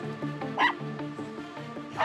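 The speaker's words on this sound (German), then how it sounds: "Plötzlich bemerken sie lautes Hundebellen und stellen fest, dass dieses aus einem geparkten Auto kommt" Seven dogs shut inside a parked car in the sun with the windows open, yipping and barking in short overlapping bursts close by, with whimpers between them.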